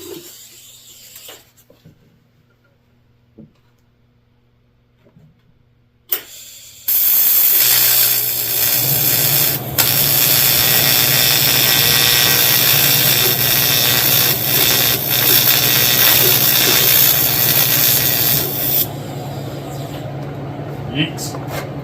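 Welding a guard for the oil tube on a Honda XR650L motorcycle: after quiet setup with a brief tack, a loud continuous sizzling, crackling hiss runs for about twelve seconds, then stops.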